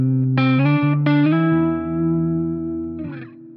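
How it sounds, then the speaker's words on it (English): Distorted electric guitar chords ring out through a Peavey 6505+ 112 combo amp, with a splashy spring reverb tail lingering after each strum and hanging as the notes decay. "And here is an example with the spring reverb engaged."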